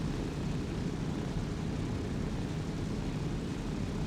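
Steady, loud propeller drone of a C-130 transport plane flying in the Arma 3 video game, a continuous broadband roar with no pauses and no talk.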